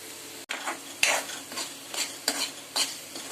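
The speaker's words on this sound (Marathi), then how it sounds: "चला आता छान मस्त तेल सुटेपर्यंत आपण याला परतून घेऊया" Ground kasuri methi stir-fried in oil in a pan for a raw banana curry, soft sizzling under several rhythmic scraping stirs of a spoon, close and moderately quiet without speech.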